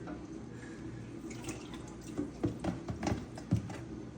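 Seasoned chicken leg quarters and deboned thigh meat with liquid poured into a gumbo pot, a soft splashing and dribbling that builds into a few louder wet plops near the end, quiet and close.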